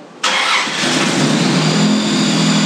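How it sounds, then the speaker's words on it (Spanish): A car engine cranks and catches after a brief quiet moment, then settles into a steady, close running idle with no voices. "Ahora le vamos a dar marcha"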